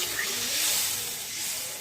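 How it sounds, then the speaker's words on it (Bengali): Water poured into hot spiced oil for a fish curry in mustard paste gives a loud, continuous, close steam hiss that holds for the whole short moment. "এখন জল দিয়ে দেব।"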